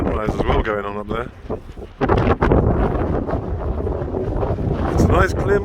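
Strong outdoor wind gusting over 30 mph buffets the microphone with loud, continuous low rumble and roar, while a person talks underneath it.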